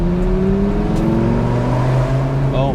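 Dodge Viper 8.3L V10 engine pulling hard through the gears, a loud close-up rising roar from inside the car with pitch climbing steadily toward a shift.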